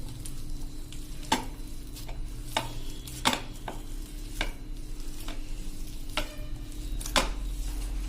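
Gram flour batter for colocasia-leaf bhajiya being stirred in a bowl, with sharp spoon clinks against the sides in an uneven, repeated rhythm over a low background hum and no talking.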